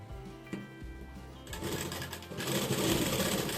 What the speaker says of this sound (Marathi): डबल शिलाई मारून घ्यायची, म्हणजे परत उसवायला नको.